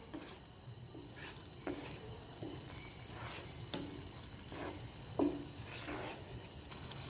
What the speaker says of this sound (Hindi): चम्मच को मुसलसल चलाते रहना ताकि हमारा खोया नीचे ना लग जाए।